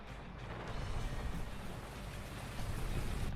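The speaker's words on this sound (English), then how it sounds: "I do like the sound of the rain though" Steady rain falls outdoors on a farm, a dense, even hiss of drops and patter filling the whole stretch at a constant moderate level, with no voices.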